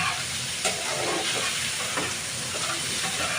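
Boiled potatoes fry in a pan with a dense, continuous close hiss and sizzle, a few faint knocks, steady and even throughout with no speech.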